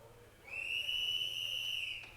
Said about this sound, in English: There's the whistle, my man.